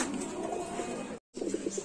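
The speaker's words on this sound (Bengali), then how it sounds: "দর্শক এখন দেখতে পাচ্ছেন এক জোড়া মুখী কবুতর রানিং পেয়ার" A pair of Mukhi fancy pigeons coo in low, soft, repeated murmurs close by, with a brief gap of silence midway.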